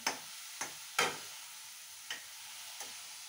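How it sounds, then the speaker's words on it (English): Vegetable momo stuffing being stirred in a pan, a few sharp scraping clicks of a utensil spaced irregularly over a faint background hiss, close and fairly quiet. "So just stir it, but do not overcook it."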